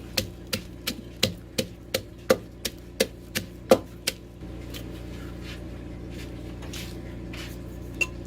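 Rhythmic pounding of chili and garlic into a spicy salmon salad in a mortar, about a dozen sharp, evenly spaced thuds, close and clear, then a steady low background hum with a single faint knock near the end.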